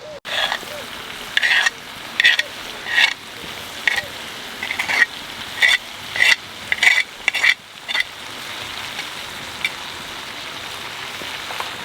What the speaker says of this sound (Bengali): আদা রসুন দিয়ে একটু কষা নিলাম